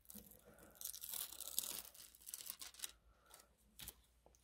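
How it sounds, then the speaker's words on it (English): Tape pulled out of a small model-building fence assembly for an HO model train layout, giving a close, crackly tearing rasp with short bursts over a few seconds, no talking. "Okay, pull out the tape."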